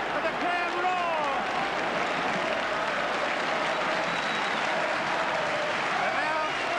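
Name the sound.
stadium crowd applauding rugby league team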